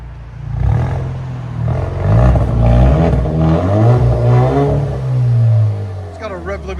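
A 2019 Alfa Romeo Giulia with a 2.0L turbo engine and muffler-deleted exhaust revs loudly up and down close by, its deep, throaty drone steady throughout while people talk over it.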